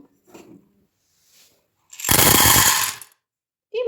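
Water runs loudly over chickpeas being rinsed in a kitchen, a broad rushing splash of about a second near the microphone, preceded by faint handling clicks and followed by a brief new burst at the end.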